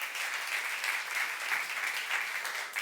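A church congregation at a youth service applauds together, a soft, even patter of many hands that stays steady and slightly distant with no voices on top.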